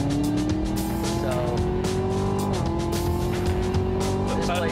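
A NASCAR race car thunders around a track as its engine pitch rises, dips briefly at a shift and climbs again, with tire squeal layered over the loud, steady roar.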